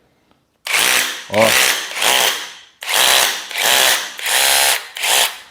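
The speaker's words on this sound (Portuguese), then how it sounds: "um adaptador de furadeira e martelete, tá? Esse aqui consegue furar pedra, concreto," A Nakasaki hammer drill runs in six bursts, each a second or so long with short pauses between, loud and close, with a rattling hammering buzz.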